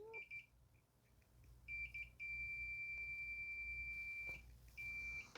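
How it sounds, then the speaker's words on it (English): A continuity tester beeps while probing a 12 volt power outlet socket from a 2015 Toyota Sienna. Short intermittent high beeps lead into a long steady tone, which then cuts out and resumes. It is quiet and close, with no voices. "we can do the same for the continuity tester, and it'll just beep if it's good"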